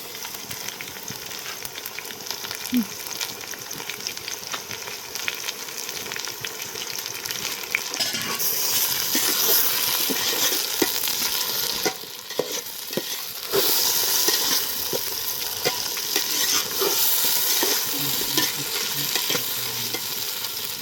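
Tomatoes frying and being stirred in a pan for Palakkadan biryani, a steady sizzle with scraping stir strokes that grows louder about midway and continues without speech.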